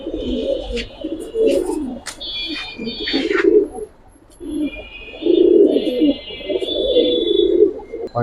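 Giribaz pigeons in an Old Dhaka loft coo in repeated low, throaty phrases close by, with a few brief higher chirps between the calls.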